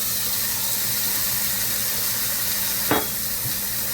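Burger meat sizzles steadily in a small bammy pot over medium heat, a continuous frying hiss broken by one brief sharp crackle midway.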